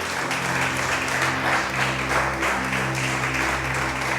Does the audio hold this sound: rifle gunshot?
no